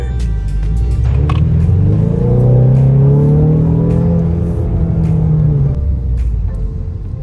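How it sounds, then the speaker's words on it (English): A 2019 Ford Mustang EcoBoost pulls hard on a Houston road, its engine note rising in pitch through the gears and then easing off, loud and close from inside the car. "we're going to do some quick pulls, acceleration"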